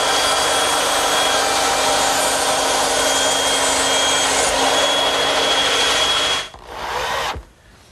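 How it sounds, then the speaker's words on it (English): A bandsaw trims wooden tenons with a loud, steady whining hum that runs for several seconds, then drops away briefly, surges back as the cut finishes, and cuts off. "they're going to bump into one another unless I trim a little off at the bandsaw"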